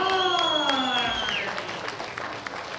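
Audience applause in a hall at the 2016 World Bench Press Championships, a steady wash of clapping that fades over a few seconds, with an announcer's amplified voice over it.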